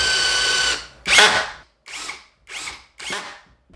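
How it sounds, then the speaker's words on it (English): Power drill driving pocket hole screws into wood for a CNC enclosure build, one long whirring run followed by four short bursts with brief pauses between them, loud and close. "I'm going to be using the pocket hole screws here"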